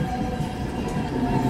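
A local train pulls into Karjat railway station, a loud, steady rumble of rolling carriages and wheels on the track with a thin metallic squeal, close by and continuous, no talking.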